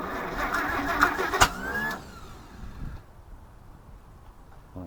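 A 1941 Dodge WC13 engine cranking over in rhythmic chugs for about two seconds with a sharp knock, then the starter stops and only faint background remains.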